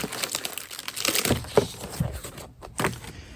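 Adhesive tape crackles and crinkles as it is peeled from the paper assembly manual of a BlitzRC Works F-18 Hornet 50mm EDF RC jet, a close, irregular stretch of tearing and rustling lasting a few seconds.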